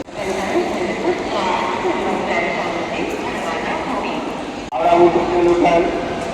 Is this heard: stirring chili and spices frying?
no